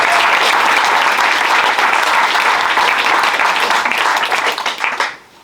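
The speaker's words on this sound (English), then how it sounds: "So please a round of applause for my amazing panel of guests" A conference audience gives a loud, sustained round of applause for a panel of guests, dense clapping filling the room evenly before tapering off sharply in the final half second.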